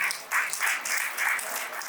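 Brief, fairly faint applause from the audience for two singers at a musical show, clapping in uneven bursts that swell and dip over a couple of seconds.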